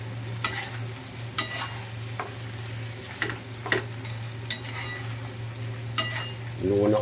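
Ground meat for tofu sisig fries in a pan with a steady close sizzle, broken by several sharp scrapes and clacks of stirring, ending in a louder burst of frying.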